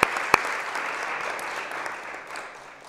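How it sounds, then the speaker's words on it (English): Audience applause at a senator's press conference, a steady patter of many clapping hands lasting a few seconds and tapering off slightly, with a couple of sharper claps near the start. "You want to clap?"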